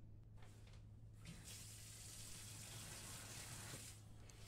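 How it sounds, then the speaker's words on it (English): In the horror game Emily Wants to Play Too, a shower runs in a steady, hissing stream of water that swells slightly midway, with a low hum beneath and no speech. "So I'm showering."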